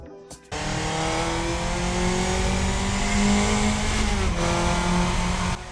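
Cooper Climax classic Formula One car in the F1 Championship Edition racing game, its engine kicking in after a brief start and droning loud and steady throughout, with a slight pitch shift near the end.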